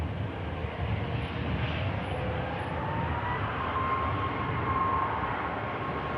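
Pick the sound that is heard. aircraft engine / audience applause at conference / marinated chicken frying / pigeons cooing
aircraft engine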